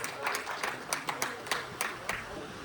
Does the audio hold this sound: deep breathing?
no